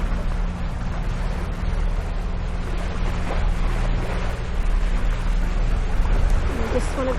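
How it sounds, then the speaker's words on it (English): Sailboat cruising past islands on open ocean, with steady wind rushing over the microphone and waves washing along the hull throughout; a voice talks briefly near the end. "Just sailing past Duke Islands."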